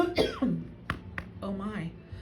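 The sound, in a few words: dry cough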